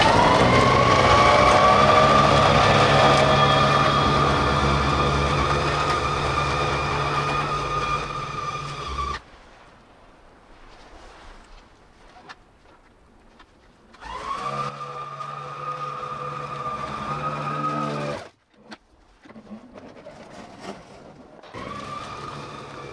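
Snow Joe iON100V-24SB 100-volt cordless dual-stage 24-inch snow blower running, a loud steady electric whine and rumble that cuts off, then restarts briefly and stops again, with quieter gaps between runs.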